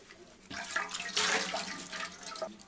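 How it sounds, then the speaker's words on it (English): Water splashes as someone washes their face in a cold, remote spot in Ladakh's Changthang Valley, a short close burst of rushing, sloshing water that swells and then eases off. "Time to wash the face."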